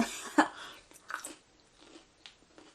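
Bites and chewing on a crunchy-topped, soft and fluffy apple fritter with apple pie filling, made in a Ninja Foodi Grill: a sharp crunch near the start, then several softer, close-up chewing sounds, no talking.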